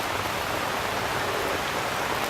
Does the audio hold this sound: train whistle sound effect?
no